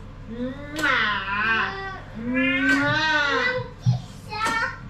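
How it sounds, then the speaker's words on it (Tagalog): A house cat meows repeatedly in long, drawn-out, rising and falling cries, close and loud, with a brief thump between calls. "pusa daw siya, pusa."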